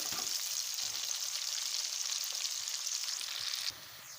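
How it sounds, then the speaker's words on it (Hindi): Onions frying in oil toward golden brown make a dense, even sizzle up close, steady for several seconds before dropping suddenly quieter near the end, with no one talking. "प्याज की हम फ्राई कर लेंगे, गोल्डन सुनहरी कर लेंगे सबसे पहले"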